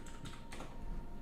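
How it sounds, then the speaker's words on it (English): Faint typing on a computer keyboard, a few soft clicking keystrokes under a low background hum. "we're typing whatever you think"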